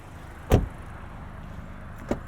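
The rear hatch of a 2022 Volkswagen Golf R, which opens by lifting the badge, releases with one sharp close thunk, followed by a quieter click a moment later over a low background hum.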